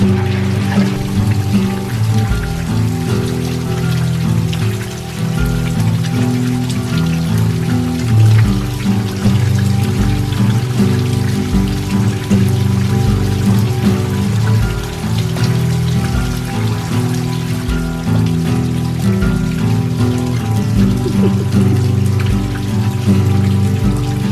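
Steady rain falls and patters on a surface, a continuous wash of drops with irregular heavier plinks, with nobody speaking.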